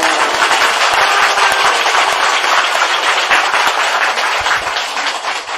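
A large audience applauds, dense and steady clapping that fills the space evenly throughout and tapers slightly at the end.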